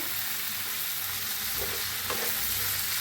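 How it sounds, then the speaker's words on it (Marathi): Roasted, finely ground peanut powder being stirred into a frying guar bean vegetable dish, a continuous close sizzle with soft scraping of the spoon against the pan, no voices. "आता ह्याच्यात टाकूया शेंगदाण्याचा कूट भाजून असं बारीक करून घेतलेला आहे शेंगदाण्याचा कूट आता मिक्स करून घेऊया"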